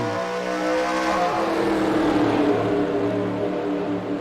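Race cars at Daytona in NASCAR Racing 2003, a loud steady engine roar with shifting harmonic drones as the pack runs together, continuous and near, with no talk.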